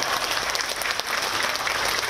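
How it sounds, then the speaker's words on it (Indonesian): An audience at an Indonesian political gathering claps for an honoured guest in a short, dense, even burst of applause lasting about two seconds. "tepuk tangan buat Pak Agung Laksono"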